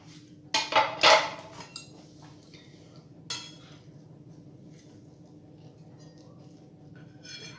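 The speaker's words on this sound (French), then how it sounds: "Donc voilà, on va couper un petit morceau." A knife cuts through a piece of homemade caramel flan on a plate: a few close, bright clinks of metal against the plate in quick succession, then a single softer tap, followed by quiet room tone.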